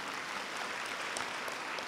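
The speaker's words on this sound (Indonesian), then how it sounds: "Tepuk tangan untuk Indonesia." An audience at a marketing talk in Indonesia claps steadily, a dense wash of many hands continuing evenly from start to finish at a moderate distance.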